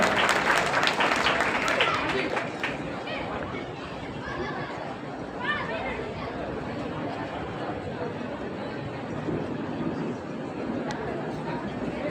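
An audience applauds folk peacock dancers at a village-style performance. Clapping is loudest at the start, then thins into a murmur of crowd chatter that lingers in the background.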